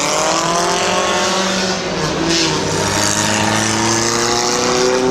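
Race cars roar around the oval at Midvale Speedway during a July 4th weekend main event, a loud continuous engine drone with rising and falling pitch as several cars pass, heard alone without talk.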